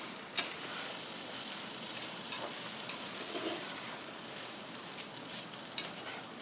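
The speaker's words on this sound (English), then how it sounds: "Now we're going to mix these black beans and corn." Black beans and corn with a bit of mixed vegetables being stirred in a pot, a soft continuous scraping and sizzling with a couple of faint spoon clicks, no talking.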